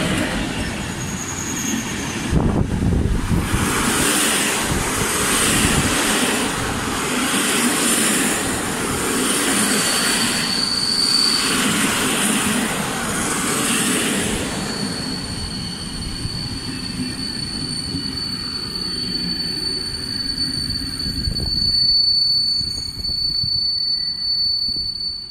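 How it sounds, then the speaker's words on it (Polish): An Intercity Przemyślanin train hauled by an EU07 electric locomotive pulls into Goleniów station in Poland, a loud, steady rumble of wagons and wheels with high squealing tones building toward the end. "Wjeżdża pociąg Intercity Przemyślanin na relacji Świnoujście Przemyśl Główny."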